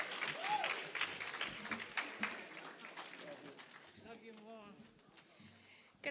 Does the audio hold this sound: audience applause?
yes